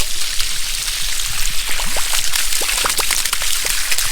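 Water gushing steadily through a newly built garden irrigation hose, a fairly strong hiss with sputtering splashes and drips scattered through it, heard up close with no talking.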